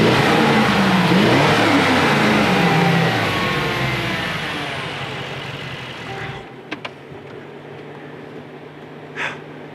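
A 2019 Mercedes-AMG G63 with a V8 BiTurbo engine revs loudly and close, a rough roaring burst that fades into idle, followed by a few faint clicks.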